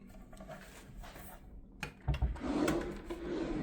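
Wooden drawers in a cruise ship grand suite slide and thump shut, a muffled rolling rumble with a couple of soft knocks near the end, faint and close.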